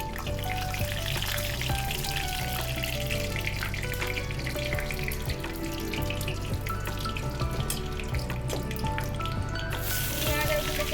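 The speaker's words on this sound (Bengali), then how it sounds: "তেজপাতা ফোড়ন দিলাম।" Bay leaf dropped into hot oil in a heated kadai sizzles loudly and continuously, a dense, even frying hiss that keeps up from start to finish with faint background tones.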